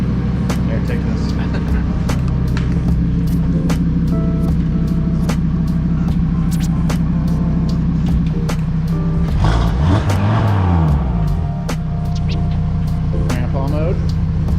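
An Audi RS3 with a new Unitronic downpipe, tuned Stage 2 on E85, idles loudly with a deep, throbbing exhaust, rising into a quick rev near the middle, while clicks and faint voices sit underneath.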